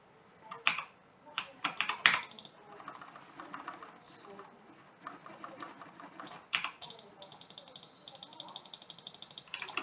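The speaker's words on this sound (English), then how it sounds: "Right now I'm just clicking like rapidly because I need to." Fast mouse and key clicking while playing Restaurant Tycoon 2, irregular clusters of sharp close clicks with quieter stretches between, under faint background game sound.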